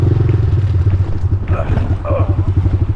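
A loud, close ATV engine rumbles steadily with a throbbing low pulse while driving off-road over stones in the Philippines, with rattling and clatter over it and voices talking briefly.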